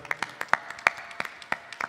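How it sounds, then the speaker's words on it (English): A small audience at a temple gathering clapping, a sparse, uneven series of distinct hand claps from a few people, close and fairly clear, without talk. "Please clap for all of them."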